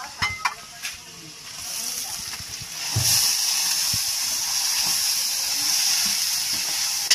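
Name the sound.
sautéing paksiw in a pan, sizzling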